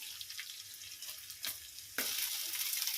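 Soaked rice frying in a pan with cashews and grated ginger, a steady close sizzle and stirring scrapes that swell louder partway through, with no talking.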